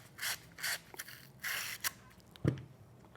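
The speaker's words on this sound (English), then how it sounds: "You also want to ream the pipe." Quiet, close scraping strokes of a hand reaming tool working the cut end of a copper water pipe, several short rasping passes followed by a light knock.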